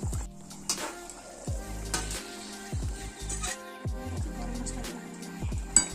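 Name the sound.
egg curry boiling after fried egg added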